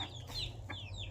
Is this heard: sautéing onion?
no